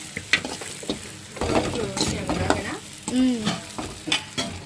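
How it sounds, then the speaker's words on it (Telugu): Onions fry in a pan with a little chili powder added and are turned over, giving a close, lively sizzle broken by scraping stir strokes and clinks. "పక్క ఆనియన్స్ అయితే ఫ్రై అయినాయండి కొంచెం కారం వేసుకొని తిప్పుకొని"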